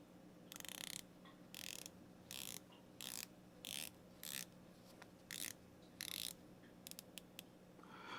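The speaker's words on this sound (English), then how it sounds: "Let's listen to the bezel action on here." Dive watch bezel with a micro-rotor movement ratcheting as it turns, giving roughly a dozen crisp, close clicking bursts at an uneven pace, each a short bright rattle of detents over a quiet background.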